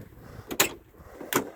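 Back third door of a 1996 Chevrolet K1500 Silverado pickup opening, heard as two sharp mechanical clunks spaced about a second apart, close by and moderately loud, with no talking.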